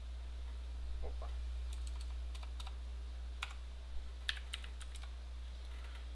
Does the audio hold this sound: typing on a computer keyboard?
yes